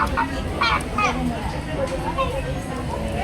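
Chickens cluck and squawk at Yuen Long market in Hong Kong amid steady market crowd noise, with people talking nearby throughout.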